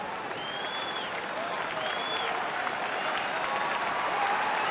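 A baseball stadium crowd at a Cubs–Brewers night game in Milwaukee roars with steady applause and cheering, a dense wash of noise with a few whistles rising above it.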